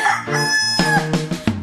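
A rooster crows a single loud, close cock-a-doodle-doo in a children's farm nursery song, the call rising and then breaking into clipped syllables over a musical backing.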